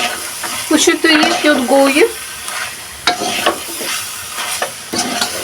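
Grated carrot for gajar ka halwa is stirred in a pan, a steady sizzle with scraping strokes from the spoon, while a person talks briefly at the start.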